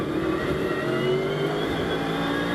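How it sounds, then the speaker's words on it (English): A British GT race car at Oulton Park growls past with a sustained, fairly loud engine note that climbs in pitch as it accelerates, heard alone without talk. "the car growls its way over Hilltop and then down towards Hislops"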